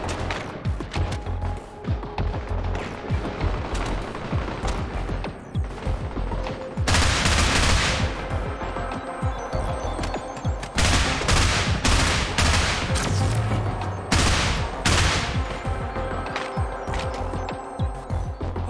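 An inaccurate gun in Get Even fires in long, loud bursts of rapid shots with impact crashes, near and dominant, with short pauses between volleys.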